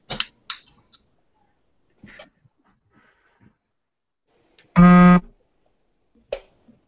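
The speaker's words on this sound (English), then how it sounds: "Somebody forgot to turn off their vibrate notification." A phone vibrates once in a short, loud buzzing burst, surrounded by scattered faint clicks and taps in an otherwise quiet space.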